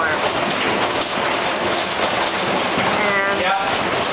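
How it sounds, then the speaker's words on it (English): Hail pounding a house roof during a storm in Denver, a dense, continuous hiss and patter of countless impacts, loud and unbroken throughout, with a faint voice briefly audible. "hailstorm."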